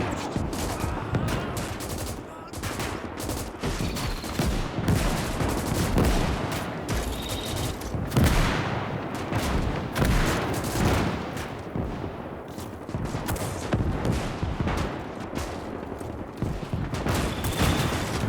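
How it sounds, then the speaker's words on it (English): A rapid-firing 45mm quad gun on a walking mech in a 1920s-style war video game keeps up a dense, continuous barrage of loud shots, with booming impacts layered throughout. "this is a rapid-firing 45mm quad gun"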